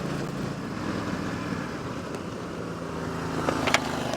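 A 2014 Yamaha Stryker motorcycle rides along in second gear at about 60 km/h, its engine a low, steady drone under rushing wind, fairly quiet and even, with a brief gusty swell near the end.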